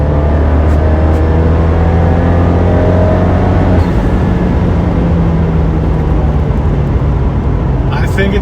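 A Fiat 124 Spider accelerates in fourth gear toward 4,500 rpm, its engine note loud and close. A steady rising drone shifts in pitch partway through, and a voice speaks over it.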